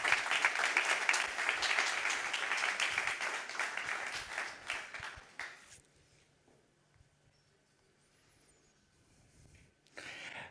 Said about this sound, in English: please give Jacopo a round of applause